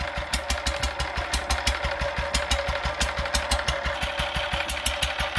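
A Fowler PA petrol stationary engine runs steadily at a rally, its exhaust beating in a quick, even rhythm with a constant mechanical clatter, close and moderately loud throughout with no talk.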